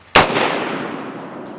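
A single loud gunshot from a Palmetto State Armory .308 AR-10 rifle cracks sharply, then its echo slowly dies away outdoors on a rainy day.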